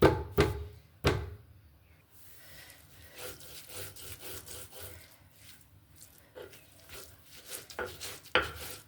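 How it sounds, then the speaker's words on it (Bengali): Jackfruit pieces are pounded and crushed on a stone grinding slab, starting with a few sharp thuds and then moving into rough, repeated rubbing and grinding strokes, close and fairly soft. "ছেঁচে গুঁড়ো করে নিব শিল দিয়ে একটু আমি ছেঁচে থেতো করে নিব"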